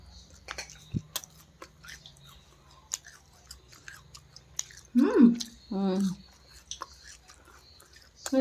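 Someone chewing and eating freshly made Odia itili pitha, soft moist mouth sounds close to the mic, with a couple of louder vocal murmurs partway through and faint background noise.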